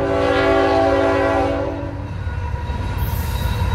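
A Canadian National double-stack freight train rumbles past close by, its horn sounding in long steady tones before fading, leaving the heavy roll of wheels and cars.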